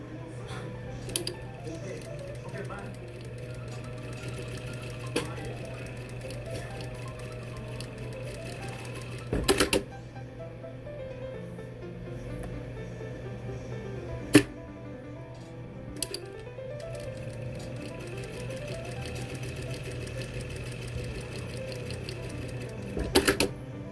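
A sewing machine stitches 8 cm fabric squares for a pillowcase, running as a faint, steady mechanical hum with a few sharp clicks scattered through it.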